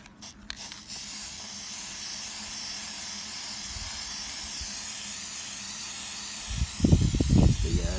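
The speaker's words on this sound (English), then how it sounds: "Make sure you spray the back of your pads with some of this disc brake quiet." Aerosol can of disc brake quiet sprayed onto the backs of brake pads on a third-generation Dodge truck: a steady close hiss runs for several seconds after a few clicks, with some rustling handling noise near the end.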